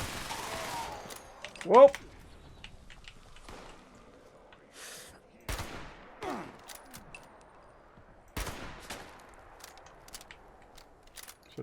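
Gunshots from a weapon in the video game Fallout 76 crack out as a few sharp, isolated reports spaced several seconds apart over a quiet background, with a short exclamation from a player.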